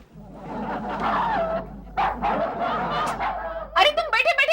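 A dog barks in a domestic scene from a Hindi TV sitcom: a quick run of loud, close barks near the end, following a stretch of voices and chuckling.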